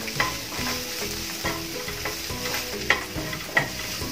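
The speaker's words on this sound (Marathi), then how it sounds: "2 मिनिटं परतून घेऊया" Masala and chopped vegetables sautéed in a hot pan for stuffed capsicum, with a continuous sizzle and a rhythm of spatula scrapes and taps, plus a couple of sharper knocks, close by and with no talking.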